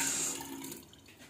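Cold water runs from a bathroom sink faucet in a Hyatt Regency hotel room in New Orleans, a steady close hiss and splash that fades slightly toward the end.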